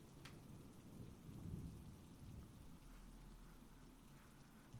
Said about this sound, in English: the thunder begins to peter off a little bit, lessen, and the rain is not as heavy